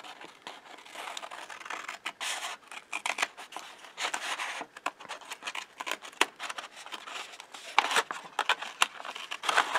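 Scissors cut through folded fabric for a sewing dart, giving a close, continuous run of crisp snipping and scraping rasps in an uneven rhythm.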